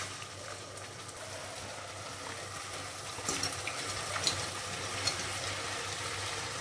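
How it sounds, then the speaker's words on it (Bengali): Hot water is poured onto chicken cooking in a pan, a soft, faint, steady splashing trickle with a few light clinks. "এরপরে চিকেনগুলো দিয়ে একটু গরম জল দিয়ে দেবো।"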